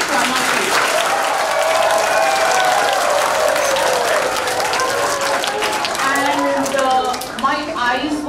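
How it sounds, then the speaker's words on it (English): Loud, sustained audience applause at a high school speech event, dense clapping from a sizable crowd with cheers and voices mixed in, steady throughout. "Okay, a huge round of applause to each one of you."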